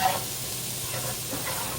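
A pan meal fries in olive oil with a soft, even sizzle and hiss, close but fairly quiet, steady throughout with no talking.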